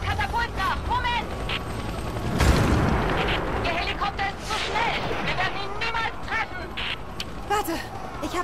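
Creaking mechanical catapult launches and a heavy boom partway through, with scattered video game effects from Rise of the Tomb Raider and people talking over the action.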